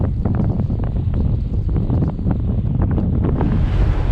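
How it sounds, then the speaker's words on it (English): Strong, gusty wind buffets a sailboat in rough weather on the Georgia coast. Loud, close rushing and microphone buffeting continue throughout, with the splash of water and the flutter of sails mixed in. "Leaving a little flutter on that jib right now because we got some crazy gusts"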